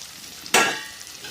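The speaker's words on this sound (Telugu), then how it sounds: "ఈ గోధుమ రవ్వ కూడా చక్కగా నూనెలో మంచిగా ఫ్రై చేసుకోవాలా" Wheat rava (semolina) tipped into hot oil in a pan with curry leaves and tempering spices, giving a sudden loud sizzling hiss that fades over the next half second, with no voices.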